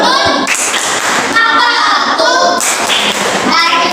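A classroom of children performs a rhythmic clapping routine, sharp claps and thuds in patterned bursts mixed with their chanting voices, loud and close.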